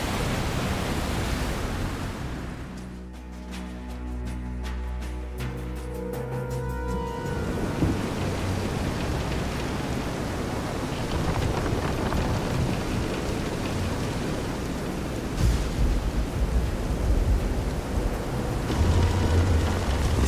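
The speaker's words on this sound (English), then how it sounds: "This is some storm." A storm in the Visions of Mana game, with steady rain hissing throughout, sustained tonal score in the first half and low rumbling swells later; no voices.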